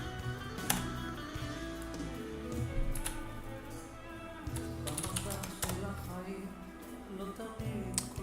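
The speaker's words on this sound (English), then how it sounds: "I'm gonna use my keyboard." Someone types on a computer keyboard while working with Docker containers, the quick clicking keys running steadily under background music and a talking voice.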